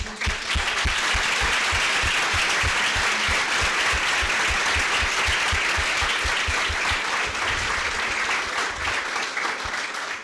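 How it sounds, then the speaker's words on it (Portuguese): A church audience applauding for about ten seconds, a dense continuous wash of clapping with a rhythmic low thumping pulse underneath that fades near the end. "Vamos aplaudir."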